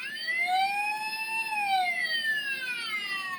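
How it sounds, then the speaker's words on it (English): A wailing electronic siren from a 2011 Transformers Dark of the Moon Sentinel Prime toy sweeps up and down steadily, thin and toy-like, sounding alone at moderate volume. "you get traditional emergency sirens, and you even get some lights and sounds"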